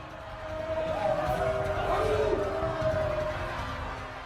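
A royalist mob in Paris swells into a steady, dense crowd roar, loud throughout, with a faint sustained tonal drone running beneath the massed voices.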